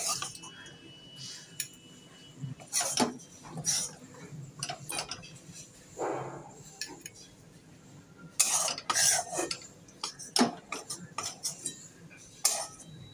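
Food and rice being served into a bowl with utensils, with a fish-roe curry among the dishes: repeated light metallic clinks and scrapes of cutlery against dishes, close by, in short irregular bursts with quiet gaps between them.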